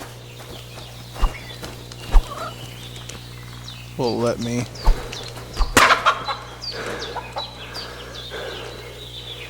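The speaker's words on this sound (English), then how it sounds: "I'm curious if I slaughter one of these chickens." Chickens clucking in the medieval video game Kingdom Come: Deliverance II, a few close, irregular clucks and squawks with one sharper burst, over a low steady hum, while someone speaks briefly.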